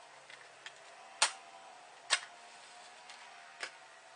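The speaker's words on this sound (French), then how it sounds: "On va essayer à l'allumette pour aller au fond du foyer pour l'allumage." A match struck and touched to a tobacco pipe packed about a third to half full, giving a few sharp, close scratches and flares spaced apart over a quiet room tone, with no talking.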